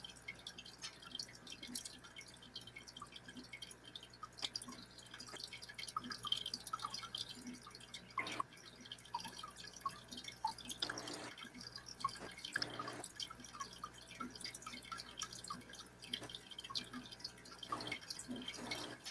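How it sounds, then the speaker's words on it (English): Water trickles and drips from a fish pond bubbler waterfall, a faint, steady patter of droplets continuing throughout with a few slightly louder splashes. "I can hear the bubbler"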